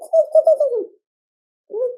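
A man imitates a bird's call by voice, giving a series of soft, rhythmic coos followed after a pause by one more brief coo, close and clear with no other sound.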